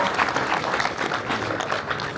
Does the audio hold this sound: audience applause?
yes